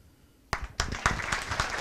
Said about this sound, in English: two rounds of applause, right?